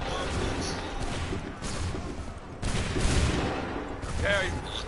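Soldiers fire a musket volley in Assassin's Creed 3, a loud crackling burst of many shots that rolls on with battle noise, then a second surge of gunfire, with voices and game sounds mixed in.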